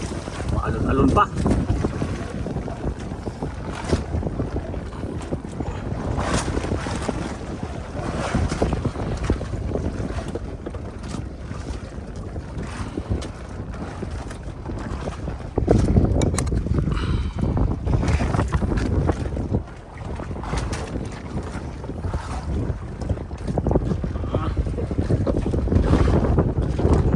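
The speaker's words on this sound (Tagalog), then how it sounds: "Grabe lakas ang alon, Roy." Strong wind buffets the microphone while sea waves slap and surge against a small boat in a constant loud rumble, with occasional voices partly heard beneath it.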